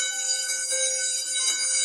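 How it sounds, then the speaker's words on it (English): A school bell rings in one steady, unbroken electronic tone lasting about two seconds, loud and clear with no voices over it. "Then the bell rang."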